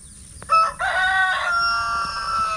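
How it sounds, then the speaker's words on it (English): On a farm, a rooster crows nearby, one loud sustained crow, with softer chicken clucks behind it and no talking. "The chickens are gathering around, trying to get the scraps."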